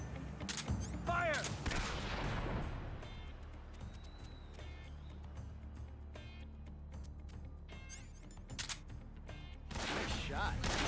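Gunfire in Metal Gear Solid 3 during the Ocelot boss fight, with loud broadband bursts near the start and again toward the end, separated by a lower rumbling stretch with faint tones.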